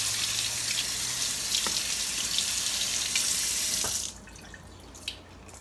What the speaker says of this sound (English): And it doesn't take long to rinse them off.